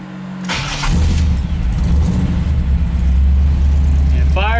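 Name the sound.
1978 K5 GMC Jimmy engine starting and running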